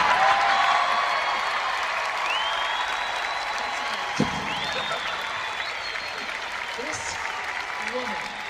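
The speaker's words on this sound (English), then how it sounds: "So it got some applause" An audience applauds in a replayed clip tied to Taylor Swift's political endorsement, a broad, sustained crowd clapping with cheering layered beneath, while voices talk and a brief knock sounds midway.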